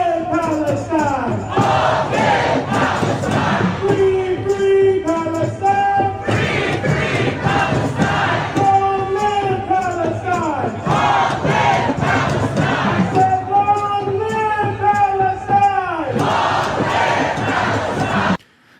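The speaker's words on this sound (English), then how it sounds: "So you can see a pretty big crowd there, pretty healthy sized crowd there." A large crowd chants in rhythmic unison at a pro-Palestine protest in Washington, D.C., loud repeated call-and-response phrases carried by many voices, continuous throughout.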